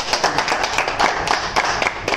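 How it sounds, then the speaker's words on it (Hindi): A small group of people claps in a room at a phone repair institute, a short, close burst of uneven, separate hand claps with no talk over it. "एक बार जोरदार तालियां भाई इनके लिए।"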